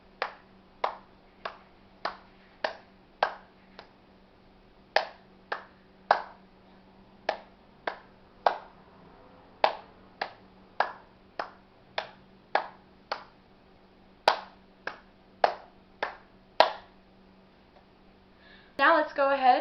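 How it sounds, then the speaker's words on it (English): Hands clapping out a rhythm in a recorder lesson for Merrily We Roll Along: sharp, close single claps in a steady pulse with short pauses between phrases, followed briefly by a voice at the end. "Clap it out, here we go."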